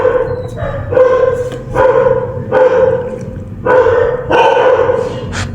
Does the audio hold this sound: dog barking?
yes